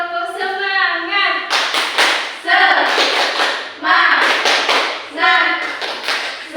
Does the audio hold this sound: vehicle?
no